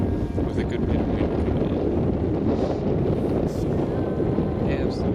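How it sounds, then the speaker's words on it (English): Strong wind buffets the microphone on an exposed bluff at an Iceland campsite, a loud, steady roar with constant low rumble throughout, and faint speech may be buried beneath it. "we're on this lovely bluff with a good bit of wind"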